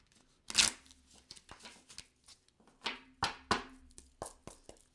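Tarot cards shuffled by hand, a sharp riffle followed by irregular soft flicks and taps of the cards, close and quiet, with no speech.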